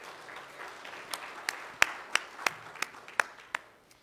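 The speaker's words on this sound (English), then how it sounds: "Let's give them all a big round of applause" Scattered clapping from a church congregation during a Sunday service as children leave the sanctuary, a thin wash of hands with a handful of distinct, sharper claps standing out at irregular intervals.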